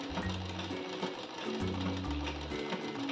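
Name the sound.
sewing machine stitching a pillow cover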